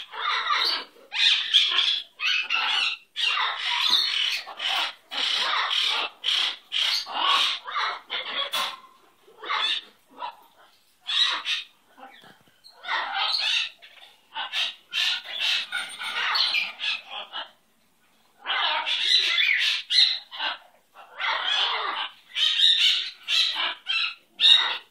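A pet bird squawks and chatters almost continuously, with shrill, rapid calls packed close together, loud and near, pausing only briefly.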